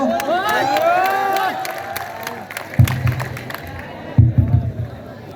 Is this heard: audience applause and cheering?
yes